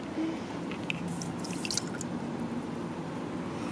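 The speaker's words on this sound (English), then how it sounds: "now it says you have to pour water really quickly and see how" Water poured quickly onto artificial snow powder, a soft hissing fizz with small drips and squishy crackles close by, no talking.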